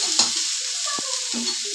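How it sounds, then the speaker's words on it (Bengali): Bitter gourd and potatoes sizzle in hot oil in a pan, with a few scraping stirs of a spatula, close by. "উচ্ছে আলু ভাজছি, উচ্ছে আলু ভাজা বসিয়েছি"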